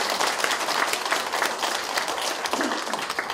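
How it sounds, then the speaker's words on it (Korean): An audience at a Seoul city forum on an ordinance supporting atomic bomb survivors applauds, dense continuous clapping filling the room at steady loudness. "큰 박수 한번 받습니다."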